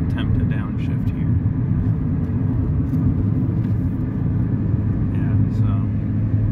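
A car with a rough-running 4G15 engine downshifts, giving a steady, loud, low engine rumble that drones throughout without clear revving peaks.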